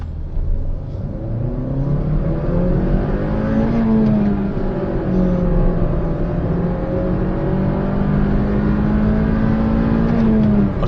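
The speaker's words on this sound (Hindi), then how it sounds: "मगर एक दफ़ा आपको इसका एक 0 to 100 भी रन दिखाता हूँ।" An older Honda Civic Reborn sedan accelerating hard from 0 to 100, its engine note steadily rising in pitch, dropping at a gear change, then climbing again, heard from inside the car with no talk.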